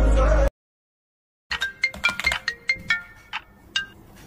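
A phone ringtone plays as a bright series of repeating electronic chimes in an uneven rhythm, clear and close, after a brief burst of other sound and a second of silence.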